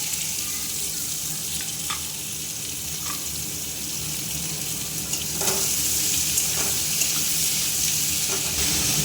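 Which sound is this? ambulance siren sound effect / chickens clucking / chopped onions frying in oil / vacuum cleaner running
chopped onions frying in oil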